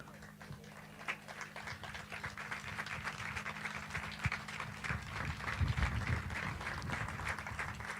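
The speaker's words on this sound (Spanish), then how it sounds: "lanta para duna un aplauso na e barrio di Kenepa" A crowd applauds the Kenepa neighbourhood at a gathering, with steady, fairly faint clapping that sounds distant and continues throughout, with a low hum underneath.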